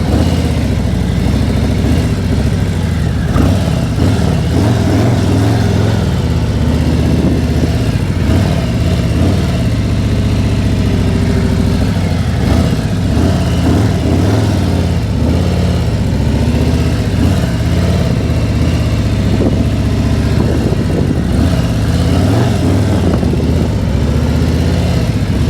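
A motorcycle engine runs continuously at low to medium revs, rising and falling as the rider slows toward a stop. The sound is loud and close, with no talking over it.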